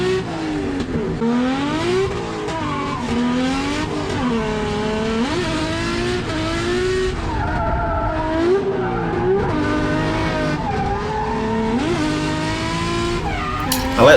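Race car in a state series motorsport practice run, engine revving up and down through gear changes with rising and falling pitch and some tyre squeal, continuous and close as from onboard.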